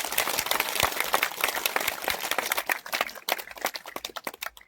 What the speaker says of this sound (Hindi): सब एक बार जोरदार तालियों के साथ विधायक जी का स्वागत कर दीजिए